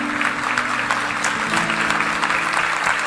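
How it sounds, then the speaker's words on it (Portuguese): Church congregation applauding two women, a dense, continuous wash of many hands clapping at steady loudness for a few seconds, close and full with no voices rising above it. "Uma salva de palmas para elas."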